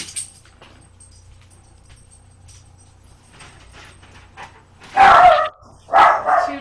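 A pet dog indoors barks twice, loud and close, after a quiet room; the two bursts come about a second apart.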